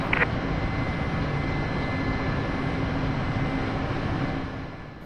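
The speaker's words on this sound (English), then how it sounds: "Flight engineer, shut down engines." Twin turbine engines of a Mi-8MTV2 helicopter in the DCS flight simulator run as a steady broad roar and hum, starting to fade and wind down toward the end of shutdown.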